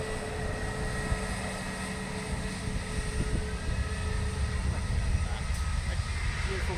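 An Airbus A320neo, registration ending Zulu Hotel Hotel, rumbles at Bristol Airport, its steady broad engine roar holding at an even level throughout, moderately loud and somewhat distant.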